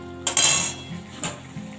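Prawn curry being stirred in a kadai, a metal spoon scraping and clinking loudly against the pan twice, with a quiet bubbling sizzle in between.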